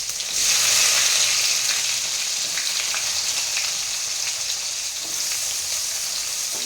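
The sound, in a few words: onions frying in a pan for fish curry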